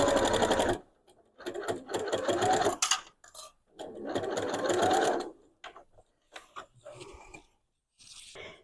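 A sewing machine stitches straight quilting lines on a quilt, running in loud sustained bursts of a few seconds each, separated by short pauses and ending with a few brief, fainter stitching runs.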